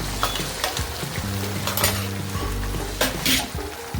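Masala frying in oil for a paneer capsicum dish, the oil starting to separate from the spice paste; a spoon scrapes and stirs against the pan in bursts over a continuous sizzle, with no talking.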